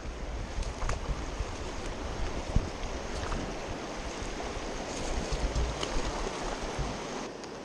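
A high, fast-flowing trout stream rushes steadily nearby, a broad continuous roar of churning water with light wind buffeting the microphone and no talking.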